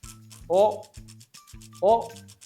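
A Wera 838 RA-R M ratchet screwdriver being turned, giving two short bursts of ratcheting clicks separated by a pause, close and fairly quiet.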